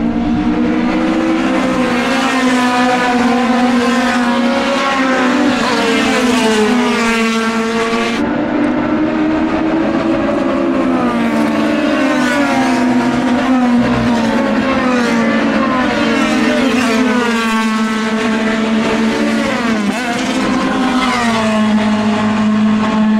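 Toyota AE86 race cars arrive on a Japanese track, engines howling and revving loudly and continuously, with pitch rising and falling as they shift and pass close by, no talk over them.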